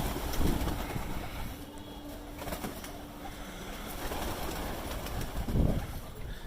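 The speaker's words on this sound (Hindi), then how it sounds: "बस्ती के अंदर सबसे बढ़िया कबूतर पालते हैं।" Domestic pigeons kept on a neighbourhood rooftop coo softly amid open-air ambience, with a couple of brief low calls and faint rustling, no talk.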